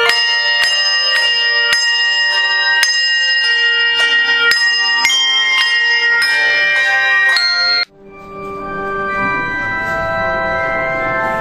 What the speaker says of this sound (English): From the voices of a glorious choir to the music of the gifted bell choir.